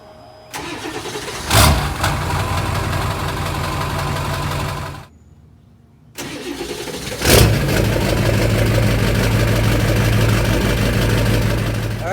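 A 7.3 Powerstroke diesel with a 5-inch straight pipe and 7-inch exhaust tip cranks and fires twice, with a short silent gap between attempts, then settles into a loud, steady, rumbling idle up close.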